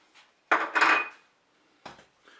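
Spoon stirring mustard into a pork roast sauce with mushrooms inside a Cookeo multicooker pot, giving a few short scraping, clinking bursts with quiet gaps between them.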